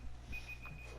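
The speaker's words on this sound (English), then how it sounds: "Sorry, that's my alarm." A personal alarm beeps faintly in a quiet room, giving a thin, high, steady electronic tone in short repeated pulses over a low hum.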